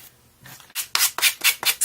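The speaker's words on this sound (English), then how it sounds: "I just finished up sanding the edges" Rhythmic scratchy rubbing of fine sandpaper on paper edges, five or six quick back-and-forth strokes after a quiet start, close and fairly loud.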